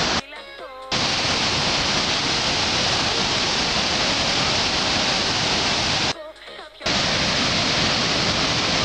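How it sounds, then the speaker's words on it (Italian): Heavy rain and spray at Victoria Falls roar as a dense, loud, unbroken wash of noise, with two brief dropouts where a voice is heard speaking. "Il ponte, ma è impossibile, piove troppo"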